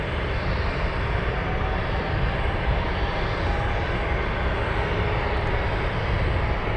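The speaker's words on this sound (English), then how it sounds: "All right, 747 finally on the runway." A Boeing 747 cargo jet on the runway at Anchorage gives off a steady, broad engine roar heard from a distance, holding evenly with a faint high whine above it and no voices.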